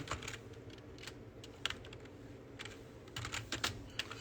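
Slow, uneven one-handed typing on a computer keyboard: sparse, irregular key clicks, close but quiet, with no talking.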